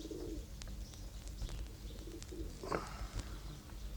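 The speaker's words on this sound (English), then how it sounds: "All that cooing." Pigeons cooing outdoors by a bench, soft low coos recurring through steady ambient background noise, fairly distant, with a brief chirp near the end.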